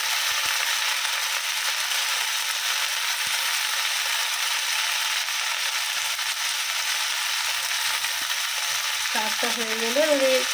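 Greens (saag) frying in a little oil in a pan, giving a steady, even sizzle throughout, with a brief scrape or squeak of stirring near the end.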